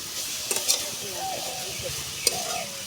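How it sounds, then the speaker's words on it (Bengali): Grated carrots frying in ghee in a pan, stirred by hand, giving a steady soft sizzle broken by a few scraping stirring strokes and light clinks, close and moderately quiet. "ঘি দিয়ে আমি সামান্য একটু গাজরের কুচিগুলোকে একটু ভেজে নেব, একটু নেড়ে চেড়ে নেব।"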